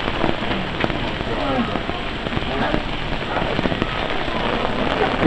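Steady, dense rain patters down on a city centre street in Winchester, England, a broad continuous hiss with scattered sharper drops, fairly loud and unbroken throughout.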